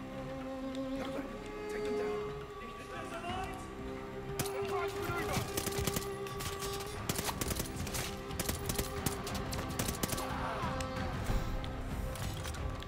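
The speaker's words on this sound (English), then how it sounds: "Oh, I'm really getting shot at right now, good lord." Call of Duty: Vanguard gunfire crackles in sharp, scattered bursts and clustered shots amid game music and effects, while someone talks over much of the action.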